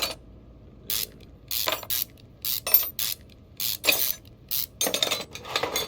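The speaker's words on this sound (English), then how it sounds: "connect that drive shaft" A drive shaft is connected in the Car Mechanic Simulator 2021 game. Quick bursts of metallic ratcheting clicks come in irregular clusters, close and crisp, separated by short silences, with no talking.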